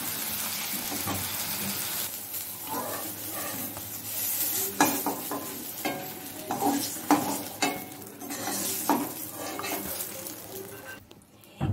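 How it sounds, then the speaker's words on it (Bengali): Eggplant slices fry in a pan over a low gas flame, a steady sizzle broken by scraping and clinking as the pieces are stirred and turned, fairly close and continuous with no talk. "এই বেগুনগুলো আমি মাঝখানে একবার উল্টে দিয়েছিলাম, আবার এগিয়ে উল্টে দিচ্ছি, এভাবে উল্টে পাল্টে গ্যাসটা সিম করে ভাজবো"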